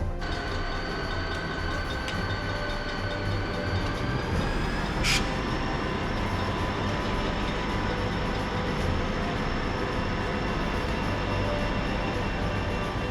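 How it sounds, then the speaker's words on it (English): An Amtrak passenger train arriving at a Florida station in 1974 rumbles steadily nearby with low mechanical drone and faint squeals, one brief high metallic screech midway, no talking. "Amtrak 88, the northbound champion, arrives on a day in 1974."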